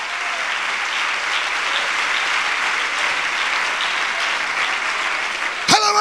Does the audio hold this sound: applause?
yes